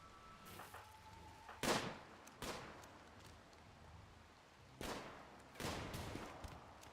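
Rifle shots crack in RimWorld as bolt-action rifles snipe approaching raiders, four or five sharp reports spaced a second or more apart over quiet background.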